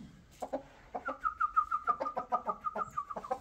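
Indian game roosters and hens cluck and call in a coop, with several close, repeated calls overlapping in an uneven rhythm and one longer sustained crow-like note running through the middle.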